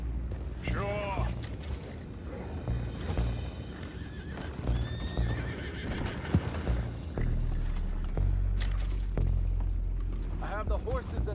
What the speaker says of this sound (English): Boys, go find out about those horses down below.